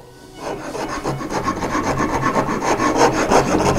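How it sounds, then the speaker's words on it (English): Nicholson rasps file a wooden chest edge, a close, loud, rhythmic rasping of repeated scraping strokes with no voices. "So now I can use some rasps."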